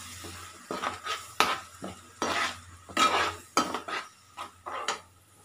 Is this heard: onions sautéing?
yes